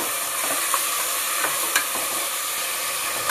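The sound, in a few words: tomatoes frying in a pan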